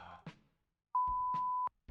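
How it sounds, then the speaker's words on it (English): A telephone gives one steady electronic beep lasting under a second, clean and fairly loud, with brief fragments of a voice just before and after it. "Sorry, that's the phone."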